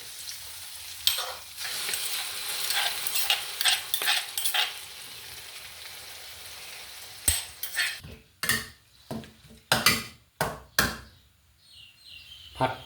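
Eggplant dip stir-fried with pork in a pan, sizzling with a series of sharp, irregular spatula scrapes and clanks that grow louder and more spaced out, no talking.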